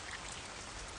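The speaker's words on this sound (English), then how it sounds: "just sit under that. And just listen to the water, to the rain." Steady rain pattering on an umbrella outdoors, a dense, even hiss of drops held close overhead, soft and continuous with no voices.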